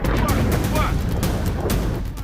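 Missile strikes and gunfire in a war zone, a loud, continuous roar of rumbling blasts with rapid repeated cracks and bursts layered over a heavy low boom, dense and close throughout.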